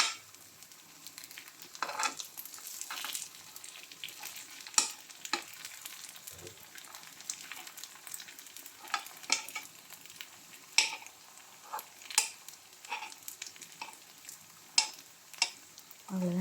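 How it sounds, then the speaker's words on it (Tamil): Kara paniyaram batter frying in a paniyaram pan, a soft steady sizzle under intermittent light scrapes and taps of a utensil, quiet and close with no speech. "இங்கே பாருங்கள் நல்லா ஊற்றி நல்லா இந்த கார பணியாரம் ஊற்றியாச்சு இது நல்லா வந்த உடனே திருப்பி போட்டுக்கலாம்"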